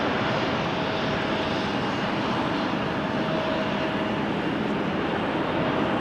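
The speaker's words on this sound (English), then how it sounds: "Engine sounds that we might pick up on the mic is from the Embraer 175 over here, making its way over to the runway threshold" Embraer 175 jet engines taxiing toward the runway threshold at Amsterdam Schiphol in the rain, a steady broadband roar with a faint whine, heard from a distance and constant throughout.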